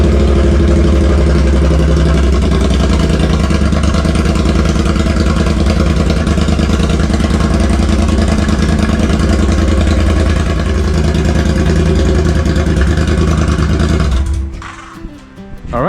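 A 2018 Triumph Bobber motorcycle engine runs loud and close in a steady, dense idle, holding its rumble for most of the stretch before cutting off abruptly near the end.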